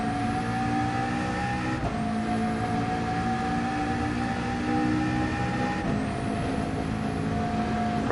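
A BMW race car in Gran Turismo 7 drones with a steady, loud engine note, its pitch shifting at gear changes as it climbs through the revs.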